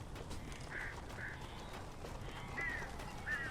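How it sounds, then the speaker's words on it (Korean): Birds cawing in the video game Alan Wake, near a cabin; several short harsh calls come in pairs over a low steady background rumble, moderately faint. "새들이 굉장히 많군요 여기"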